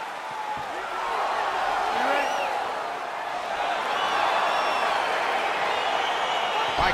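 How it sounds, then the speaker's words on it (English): A crowd in the EA Sports UFC 4 video game arena gives a steady, sustained roar of cheering as a fight begins, with scattered whoops rising above the continuous wash of noise. "Crowd getting excited as this fight gets underway"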